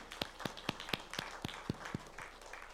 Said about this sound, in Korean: 우리 여러 성도는 박수로 축하해 주시고